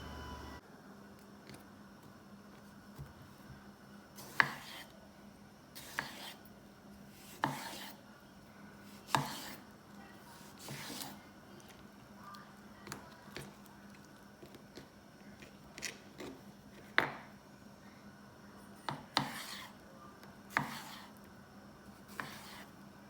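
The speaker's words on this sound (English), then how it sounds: "we're gonna start cutting the tomato and the onion for our carne con ejotes." A knife cuts tomato and onion into chunks on a board in a home kitchen: quiet, irregular thuds spaced a second or two apart, sometimes in quick pairs, with no talking.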